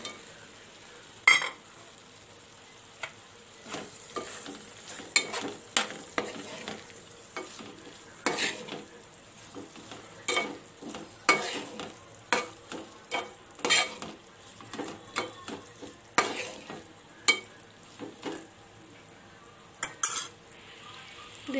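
Soya chunks are stirred into a curry in a pan, giving repeated scraping, clinking strokes of a spoon against metal over a soft background sizzle, with irregular bursts and quiet pauses and no talking.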